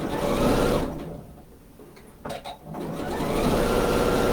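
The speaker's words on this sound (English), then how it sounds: "we're going to sew right across here" A sewing machine runs a line of stitching across the seam of a fabric shopper tote bag, whirring steadily and close, easing off briefly in the middle before speeding up again, with no talk.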